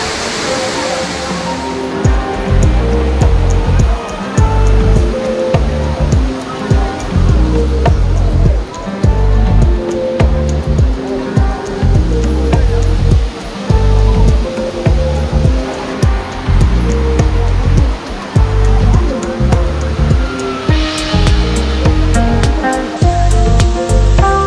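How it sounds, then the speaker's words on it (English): The main waterfall at El Limon in the Dominican Republic roars loudly and continuously, a broad rushing wash of falling water with people talking over it. "Yeah, this is definitely the main waterfall."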